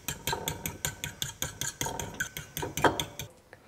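Broken eggs are mixed in a bowl with quick, regular whisking strokes, a soft rhythmic tapping and scraping against the bowl that stops near the end.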